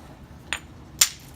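Flint knapping with a Georgetown flint and a hammerstone: two sharp stone-on-stone strikes, the second louder and brighter, spaced about half a second apart over a quiet background.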